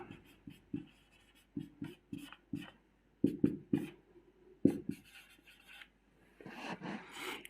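Pen or chalk strokes writing out a trigonometry formula for a Class 10 maths exercise, a series of short scratchy marks in uneven bursts with brief pauses between, close and fairly quiet, with a longer rubbing stretch near the end and no talk.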